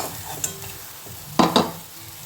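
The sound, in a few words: banana blossom fritters frying in oil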